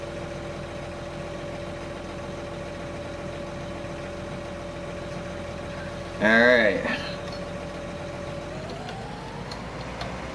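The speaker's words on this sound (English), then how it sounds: "And this tractor's loud as hell" A dirty tractor in a PlayStation 4 farming game runs with a steady idling engine drone and a ticking rhythm, a brief louder burst of talk in the middle, and the engine pitch rising near the end.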